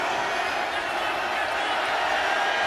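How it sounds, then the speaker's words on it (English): Football stadium crowd at an XFL game between the St. Louis Battlehawks and Seattle Sea Dragons, a dense, steady roar of many voices that holds loud throughout, with broadcast commentary mixed beneath. "You hear the crowd getting loud."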